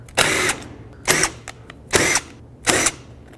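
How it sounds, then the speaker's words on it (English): Four short, loud bursts from a power tool spinning off the 10mm nuts on a Toyota Sequoia fan clutch at a workbench, evenly spaced with brief quiet gaps between. "I'm going to take the 4 10mm nuts off, and that's what secures the fan to the fan clutch."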